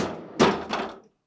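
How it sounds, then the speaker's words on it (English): A GE refrigerator freezer door pulled open, giving a soft thunk followed by a second duller knock, close and brief with no one talking. "Start by opening the freezer door."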